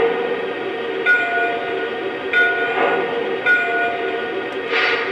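The second bell setting on a Lionel NYC Pacemaker L-2a Mohawk model train locomotive rings in a few spaced metallic strikes over a steady hiss and rumble, with a slightly brighter tone than a plain chime.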